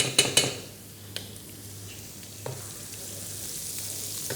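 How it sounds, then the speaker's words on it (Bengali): Chopped garlic sizzles in soft butter in a pan for mushroom pasta, a steady low frying hiss with a few sharp utensil clinks against the pan near the start and a faint knock midway. "চপ গার্লিক একটু ফ্রাই করে নিব।"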